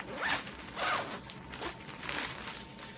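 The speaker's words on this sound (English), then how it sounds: "They did do an excellent job with these rings on the zippers, makes it really easy to open and close those." A zipper on an Osprey ultralight stuff pack is pulled open and closed in several quick, close, fairly quiet zips with brief pauses between them.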